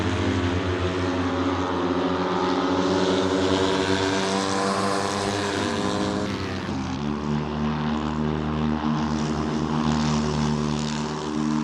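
An Abarth 595 SS racing car engine in Assetto Corsa, on track at Vålerbanen, drones loudly and continuously with a buzzy harmonic tone. Its pitch rises steadily, then drops sharply midway as if shifting gear, and climbs again.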